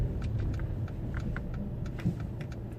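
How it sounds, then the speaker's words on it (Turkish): A car's right turn signal ticks in a steady, even rhythm inside the cabin during a driving test route, the faint clicks sitting over a low engine rumble. "öğrencimiz Tuğçe zaten şu anda sağ sinyalini yakmış bulunmakta"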